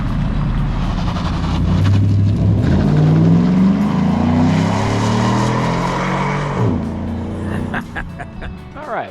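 A 1936 Ford pickup's engine runs and revs close by, its rumble swelling and easing over about nine seconds, with people talking over it and a dog barking briefly.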